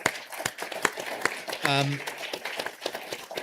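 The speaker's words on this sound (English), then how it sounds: "let's give all of them a quick round of applause" Audience applause at an annual meeting on nuclear security, honoring board members: a scattered run of sharp claps from a room, with someone speaking over it.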